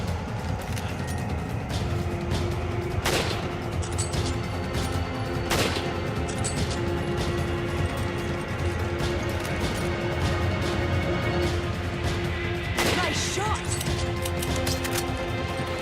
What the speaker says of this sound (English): I'm going to use the sniper rifle to take care of the Magini with the crossbows.